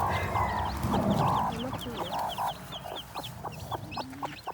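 Newly hatched jungle fowl chicks peep in quick, high chirps throughout, mixed with clucking from an adult hen nearby, with a faint low murmur beneath.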